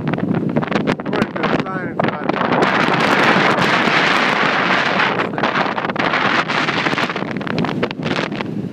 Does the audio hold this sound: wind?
yes